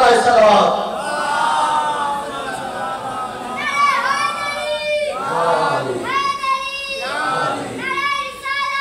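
A large crowd at a Majlis e Aza gathering recites salawat in loud unison chants that swell in repeated waves after a call, with overlapping voices.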